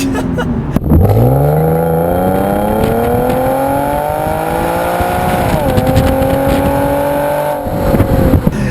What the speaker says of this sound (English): Whoa, a little bit of wheel spin.